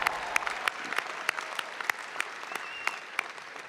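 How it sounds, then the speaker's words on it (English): A large commencement audience claps steadily in a big hall, a soft even patter dotted with sharper individual claps, fairly distant and continuous throughout. "Yeah, give it up. Yeah, you can clap,"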